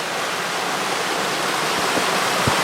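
Mountain creek water at Rock Creek in the Sierra Nevada, a loud, steady, full rushing flow close by that fills the whole moment without a break.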